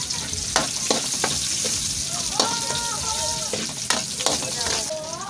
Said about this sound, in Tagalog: Lagyan natin ng sunod yung sibuyas.